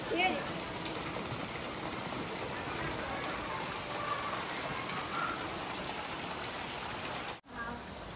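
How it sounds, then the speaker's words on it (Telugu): Steady rain hisses across the whole stretch as a dense, even wash of drops on surfaces, with faint birds or insects in the background and a brief cut near the end. "చూద్దాం ఎంత వర్షం పడుతుందో"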